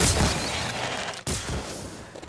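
Chompy Mage's staff fires in Skylanders Imaginators, the Jingle Bell Chompy Mage version, giving a dense burst of game shot noise with a brief cutoff partway, then another volley close and loud.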